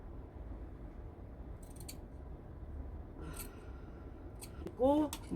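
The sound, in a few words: scissors snipping fabric seam allowance on a jacket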